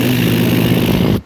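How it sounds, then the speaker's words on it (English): A heat exchanger's combustion on an AAON unit puffing rapidly and loudly, a rough, steady rumbling chug like an idling motorcycle engine, close up and cutting off abruptly at the end. "You'd get that sound like an idling motorcycle engine."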